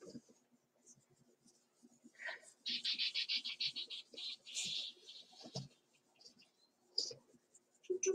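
Marker or eraser rubbing across a whiteboard to wipe off written numbers, a run of scratchy squeaking strokes in the middle, with quiet room sounds around it.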